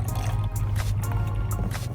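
Liquid poured into a yellow jacket trap hung at the eaves, a close, continuous splashing trickle with small drips over a low background hum, lasting about two seconds.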